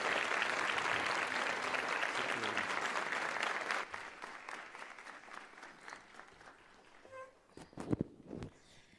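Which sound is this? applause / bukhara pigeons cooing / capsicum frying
applause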